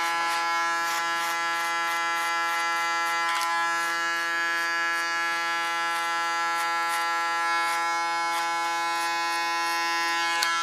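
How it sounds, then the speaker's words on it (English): A small Wahl electric hair clipper buzzes steadily at close range during a haircut. The tone is constant and harmonic, with brief clicks and ticks as it touches the hair. "My small well clipper,"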